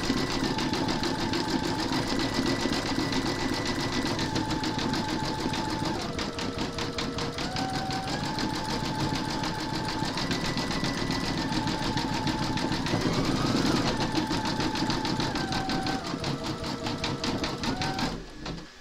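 A Brother embroidery machine stitches a large whimsical Santa design, running as a steady rapid mechanical chatter with shifting whining motor tones throughout, close and continuous with no talking.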